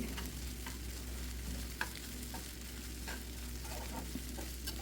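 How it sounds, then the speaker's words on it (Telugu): Ginger and garlic sizzle in a pan cooking a prawn and egg curry, a steady close frying hiss with occasional light stirring taps and no talk. "ఇప్పుడు నేను ఖాళీ చేసేసి అల్లం వెల్లుల్లి వేసాను అనమాట అల్లం వెల్లుల్లి కూడా కొంచెం బాగా వేగాలి"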